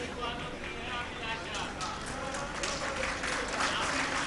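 Listeners at a religious discourse by a Jain acharya clap together in a steady, moderately loud patter with a speaking voice running over it.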